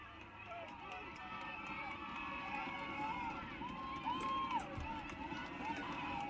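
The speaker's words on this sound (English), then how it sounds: "Crowd really getting into it here." Crowd cheering at a Tigers high school football game in Delhi, a steady roar of many voices filling the stands, with a commentator talking over it.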